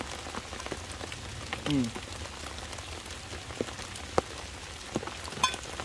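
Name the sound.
rain falling at an ATV campsite at night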